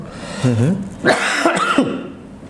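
A person coughs a few times up close, rough and throaty, in short bursts with a brief pause between.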